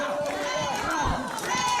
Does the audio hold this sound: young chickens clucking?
no